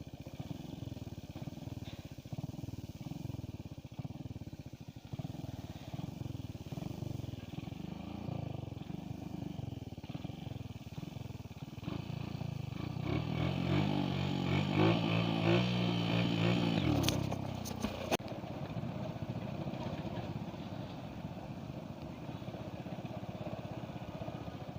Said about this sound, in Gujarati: તમને અત્યારે મેં વ્હીલી મારીને બતાવું